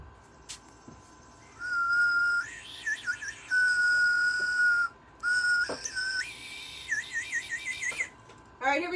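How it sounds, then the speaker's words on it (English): A shrill whistle blown indoors during a kettlebell workout, sounding in several sustained, warbling blasts that stop and start over a steady room background, with a voice speaking briefly around them. "What is that? A whistle?"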